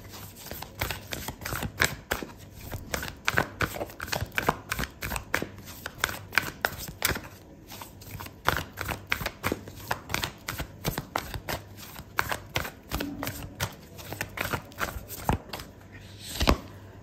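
Oracle cards shuffled during a tarot reading, a long run of rapid, close, crisp flicking and riffling taps that keeps an even busy rhythm for the whole stretch, with no talking.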